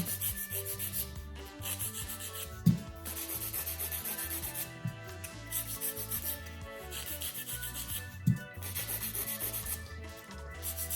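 Acrylic nails are being filed into a coffin shape with a rasping, rubbing stroke repeated in a steady back-and-forth rhythm, close up and fairly quiet, with no one talking.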